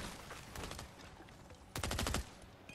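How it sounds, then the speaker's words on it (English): Video game gunfire crackles faintly in short bursts, with a louder rapid volley near the end. "Where is he shooting from?"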